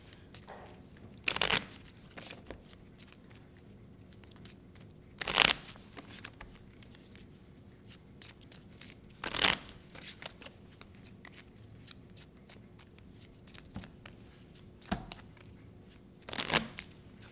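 Keyforge playing cards being shuffled, a series of sharp riffling bursts repeating every few seconds, close and crisp, with soft handling noise between them and no talking.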